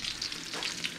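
Broccolini hits hot oil in a pan, giving a steady, close sizzle and crackle that fills the brief moment without any voices.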